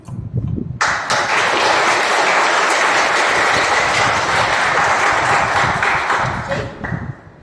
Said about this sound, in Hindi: आपकी तालियां इसका समर्थन करेंगी